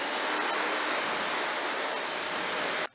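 Active 2.0 pressure washer spraying water on a car makes a loud, steady hissing rush of spray close by, cutting off abruptly at the end.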